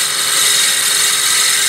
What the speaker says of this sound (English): we're going to start by drilling a 6-inch hole in here